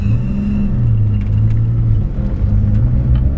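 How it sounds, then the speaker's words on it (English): A 1959 Studebaker Lark VI engine idles steadily just after starting, a low, smooth, quiet rumble heard up close and alone. "Touch of the key and she fires right up."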